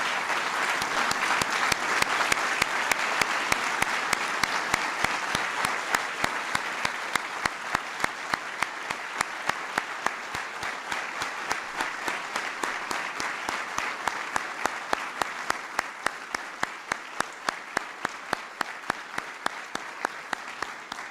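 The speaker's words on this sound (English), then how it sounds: "Let's give one last big round of applause to the recipients of the Medal of Valor." A ceremony audience applauds recipients of the Medal of Valor, sustained loud clapping that rises quickly and holds steady for the whole stretch, with no voice over it.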